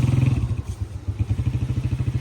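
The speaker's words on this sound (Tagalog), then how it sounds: "teka, maingay ang motor." A nearby motorcycle engine idles with a rough, loud, rapid rhythmic putter, briefly dipping and clattering before settling back into steady pulsing, with no talking over it.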